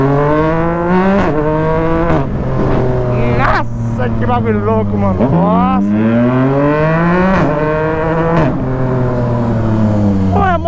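A Yamaha MT-09 motorcycle fitted with a Jeskap exhaust accelerates hard through repeated gear pulls, loud rising engine whine with sharp shifts and pops, while a rider exclaims over it.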